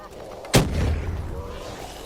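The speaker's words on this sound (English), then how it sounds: "we'll just chuck a grenade and see how many that can take out." A grenade explodes in the Ascension map of Black Ops Zombies: one sharp, loud burst followed by a rumbling, decaying boom that fades over the next second and a half, with no talking.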